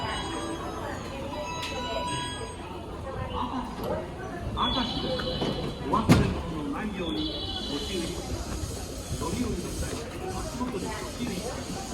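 A train pulls into a station, a low rumble and rattling hiss with squealing metallic tones, a sharp bang midway, and people talking over the noise throughout.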